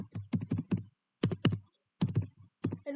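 Quick bursts of clattering keystrokes on a computer keyboard as Python code is typed, coming in short clustered runs with brief pauses between them, close and clear with no talking.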